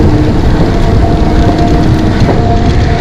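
A Kolkata Metro train running, its loud, steady rumble and rolling roar constant throughout, heard close up with no voices.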